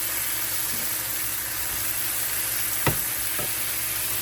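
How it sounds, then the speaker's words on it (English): Mushrooms and onions fry in olive oil in a pan with a steady, close sizzle and hiss, broken by a sharp clack near the end and a softer knock after it. "Here's my mushrooms and onions with some olive oil, and they should cook quickly"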